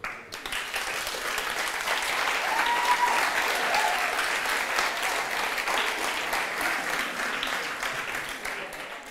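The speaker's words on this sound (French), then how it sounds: "je crois qu'on peut vous applaudir." Sustained applause from an audience at a presentation event, steady dense clapping that swells and holds for the full length, close and loud with no clear voices on top.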